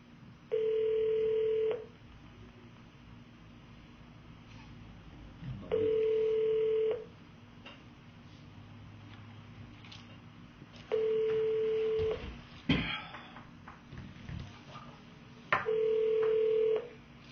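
Four steady telephone tones, each lasting about two seconds and spaced a few seconds apart, on a phone line with faint clicks and line noise between them.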